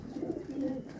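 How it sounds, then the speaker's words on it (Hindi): A pigeon coos softly and close by, a low, rounded, throaty call that rises and falls and carries on steadily through the short stretch. "ये नीवी वाला रोजा कबूतर है बड़ा मजबूत कबूतर"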